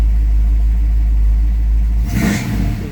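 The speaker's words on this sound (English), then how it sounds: "I don't know why the power steering squeals." A 1967 Barracuda's newly installed 340 V8 idles with a heavy, loud low rumble, then a sudden rev near the end brings a brief high squeal from the power steering belt.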